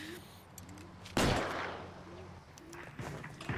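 A single loud gunshot in the LA Noire video game rings out near the middle of the stretch and fades with a long echo. A faint voice talks quietly before it and after it.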